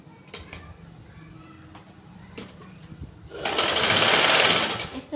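Electric sewing machine stitching around a fabric piece, probably a sleeve, with small cuts along its edges: a loud steady mechanical whir starts about two-thirds of the way through, after soft handling clicks, and runs to the end.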